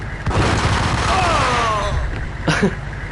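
A grenade goes off on the ground in Max Payne, a deep, sustained rumbling blast with crackling debris, followed by a short sharp report near the end.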